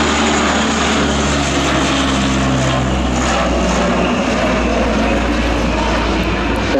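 A steady, loud turboprop engine of a French Navy Bréguet Atlantique 2 patrol aircraft drones continuously with a low rumbling tone and a broad roar, holding level throughout.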